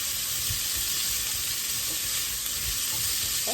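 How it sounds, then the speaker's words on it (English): Vegetables for chicken noodle soup sautéing in a pot, a steady, close frying sizzle with soft stirring knocks and scrapes throughout, no voices. "saute those around."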